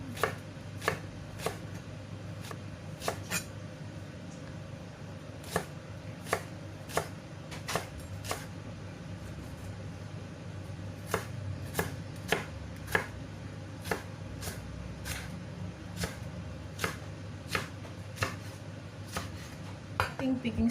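Spring onion is chopped on a cutting board for Chinese cooking, the knife striking in quick irregular bursts of sharp taps over faint kitchen clatter, with talking at times.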